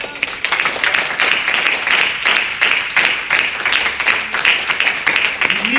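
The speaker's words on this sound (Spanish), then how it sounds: "¿Cuántos dan un aplauso a Dios?" A church congregation applauds in sustained, dense clapping at steady loudness throughout, with a few voices faintly mixed in.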